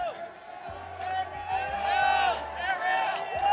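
A crowd at a UFC 244 press conference in New York cheers and whoops with sustained, rising shouts, while a voice speaks over the noise.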